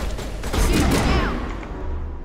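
Gunfire in the Mass Effect video game, a dense, sustained burst of rapid shots with heavy low rumble, loud and close throughout, with a voice briefly mixed in.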